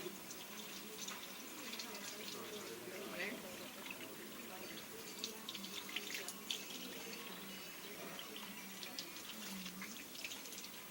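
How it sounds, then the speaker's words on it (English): Water runs steadily from a tap into a sink while hands are wetted under the stream, a constant close splashing wash with faint talking underneath. "Once we turn on the pipe, we want to wet the hands."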